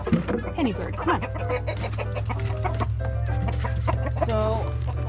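A flock of farm chickens clucks busily at feeding time, with many overlapping close cackles and chatter over a steady low background hum.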